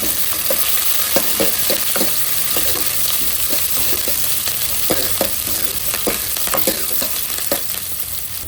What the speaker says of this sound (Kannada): ಈಗ ಹಸಿಮೆಣಸಿನ್ಕಾಯಿ ಸ್ವಲ್ಪ ಗೋಳಿಸ್ಕೊಳ್ಳಿ